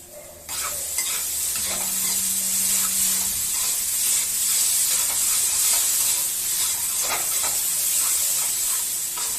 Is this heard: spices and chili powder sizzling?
yes